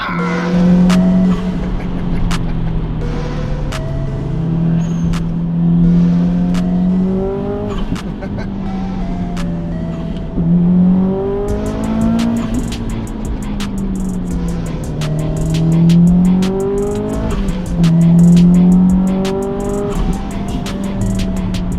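A Subaru Impreza blobeye drives hard and revs, its engine note rising and falling in repeated surges, with tyre noise and occasional ticking. People whoop and talk over it.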